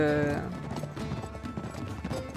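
Horse hooves clip-clop at a trot in Uncharted 3, a quick uneven rhythm of thuds close by, mixed with game sound and a brief tonal hum at the start.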